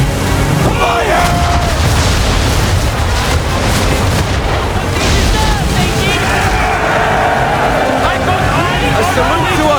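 Ship cannons fire in broadside volleys during an Assassin's Creed 3 naval battle, booming steadily and loudly through the clip over a dense wash of crew shouts and battle noise.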